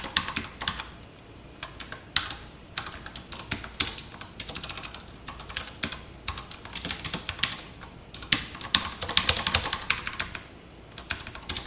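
Steady keyboard typing while C-language code is entered, irregular quick clicks and taps close up with brief pauses, no voice over it.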